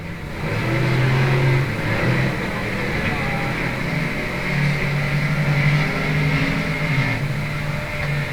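Limited modified race cars roar around a Texas dirt speedway during a heat race, a loud continuous engine drone rising and falling as the pack passes, with an announcer talking over it.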